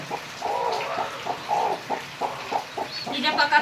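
A village hen clucks repeatedly in short, agitated bursts while being handled, close by, with a few higher squawks near the end.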